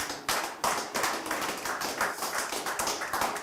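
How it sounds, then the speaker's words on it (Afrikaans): A person clapping hands during a church sermon, a steady run of sharp, fairly close claps in an even rhythm lasting several seconds. "Richard, asseblief, Richard, gee aan 'n klap"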